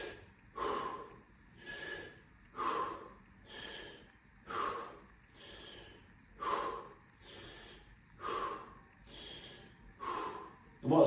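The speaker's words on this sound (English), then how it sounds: "6 breaths through the mouth." Six slow breaths in and out through the mouth during a fascia movement exercise, each a close, audible rushing inhale and exhale in a steady rhythm, with no talking.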